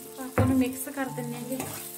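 Onions and salt being stirred in a hot pan, a spoon scraping with a brief sizzle burst that settles into a softer frying hiss.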